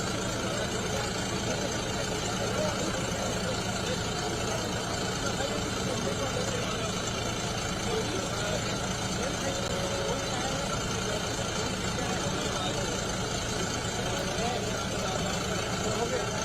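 A tractor engine runs with a steady, even drone at the Akti festival soil worship event in Raipur, Chhattisgarh, while the Chief Minister rides on it. The hum continues for the whole stretch, and voices are heard over it.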